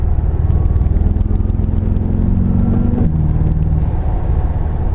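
A 2015 BMW M5 30 Jahre sedan's engine drones loud and steady from inside while driving, with a brief pitch drop around a gear change partway through.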